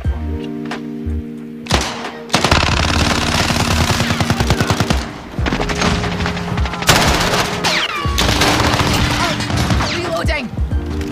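Rapid SMG bursts from a Modern Warfare Hardpoint match, loud and close, firing in long automatic strings broken by short pauses, with in-game voice callouts and thuds around them.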